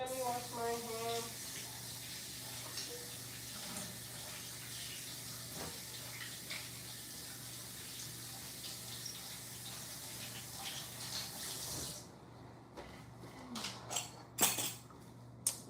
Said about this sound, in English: First, let me wash my hands.